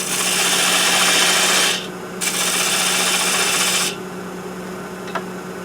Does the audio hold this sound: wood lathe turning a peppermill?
yes